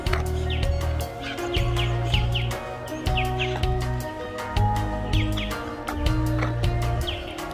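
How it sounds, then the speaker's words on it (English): Birds chirp and call outdoors at a public lithium mine lookout, with short repeated chirps scattered over a busy background of steady tonal hum and rhythmic low thumps. "Can you hear that, birds?"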